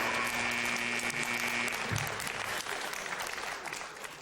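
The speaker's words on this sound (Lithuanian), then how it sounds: "plojimai, šitie aplodismentai verti daugiau negu pralošti 300 litų" Studio audience applause on a comedy show, a dense burst of many hands clapping that slowly thins and fades toward the end, with a brief tonal sound early on.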